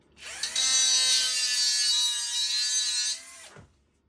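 An angle grinder cutting magnetic metal whirs up to a steady high-pitched whine for about three seconds, then spins down and stops.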